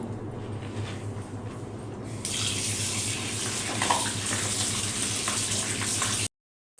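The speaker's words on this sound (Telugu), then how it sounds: "చికెన్ శుభ్రంగా కడిగి పెట్టుకున్నాము చూసారు కదా కడిగి శుభ్రంగా నీళ్లు ఏమన్నా ఉంటే పిండేసుకొని పెట్టుకోవాలి" Tap water runs steadily while raw country chicken is washed, growing louder and splashier partway through before cutting off abruptly near the end.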